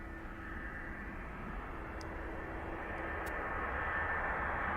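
An aircraft at East Midlands Airport, a faint, steady distant engine roar that builds slightly over a few seconds, with no voices.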